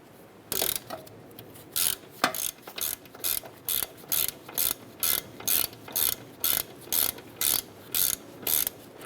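A ratchet snugs a bolt down on a 2008-2012 Honda Accord driver side front wheel hub, giving a steady series of close, sharp clicking bursts in regular rhythm, one after another, with no talk.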